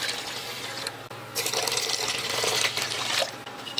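Water splashes and gushes steadily into a pot, close by, briefly pausing before pouring again.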